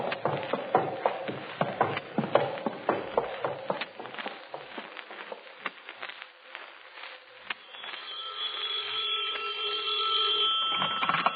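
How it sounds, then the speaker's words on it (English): Old-time radio crime drama telephone bell ringing in a detective squad room, a bright metallic ring repeating near the end, preceded by a busy stretch of footsteps, clatter and rhythmic knocking. "Adler, Captain Hanson's calling in on the other phone."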